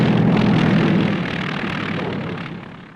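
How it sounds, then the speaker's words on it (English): Douglas A-26 Invader attack bomber in wartime flight, a steady droning engine roar with propeller hum, loud and continuous, fading slightly toward the end. "Air Force films of the new Douglas A-26 Invader, successor to the veteran A-20"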